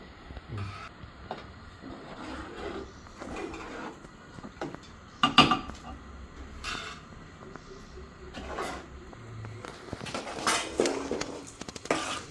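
Potato and meal maker pieces added to a curry in a pot and stirred, with scattered scrapes and clinks of a spoon against the metal, one sharp clatter midway and a busier stretch of stirring toward the end.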